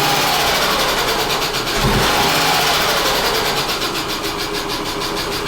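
A Subaru 2.5 engine, prone to occasional popping through the carburetor intake, runs steadily with a brief throttle blip partway through. It is loud and close, with a constant mechanical clatter and no talk.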